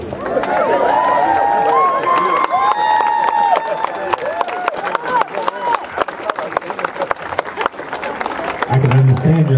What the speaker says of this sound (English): I can understand your clapping